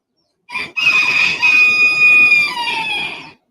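A rooster crows once, a loud close cock-a-doodle-doo that starts with a short clipped note and then holds a long drawn-out call, alone with no talk.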